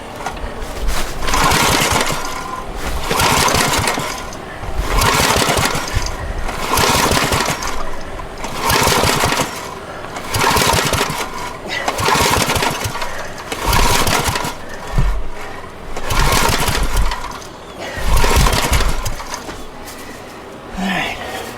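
An abandoned Generac generator engine is cranked by its pull cord over and over, each yank a rasping, rattling burst about every two seconds, close and loud, with no sign of the engine catching.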